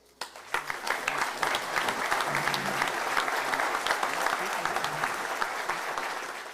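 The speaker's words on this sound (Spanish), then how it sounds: "le recibimos con un aplauso" Sustained audience applause welcoming an engineer to the podium at a keynote lecture of the Mexican Society of Engineers, dense steady clapping of a sizeable crowd filling the whole stretch without a break.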